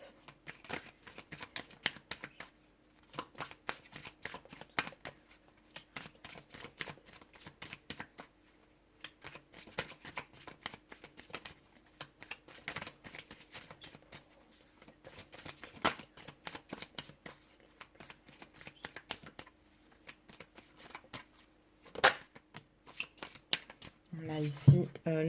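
Tarot cards are shuffled and handled in a run of crisp, rapid flicks and riffles. The sound is close and fairly quiet, continues steadily for nearly half a minute, and a voice can be heard faintly at times.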